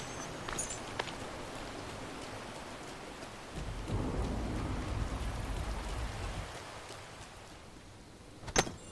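Steady rain falls with rolling thunder in the Disney Dreamlight Valley video game while mining, the rumble swelling mid-clip, ending in a sharp crack near the end.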